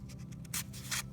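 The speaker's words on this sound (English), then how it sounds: "So I just poke a hole in it with my scissors" Scissors poke a hole through a paper or card frame, heard as a brief scratchy rubbing and a couple of sharp crisp bursts of tearing, close and quiet.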